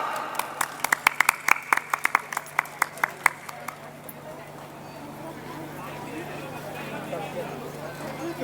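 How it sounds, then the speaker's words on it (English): Audience applause at a school annual function, with a burst of loud individual claps in the opening seconds that thins into a murmuring crowd and background chatter. "give a huge round of applause."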